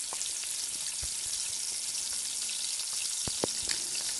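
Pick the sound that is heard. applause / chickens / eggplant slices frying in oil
eggplant slices frying in oil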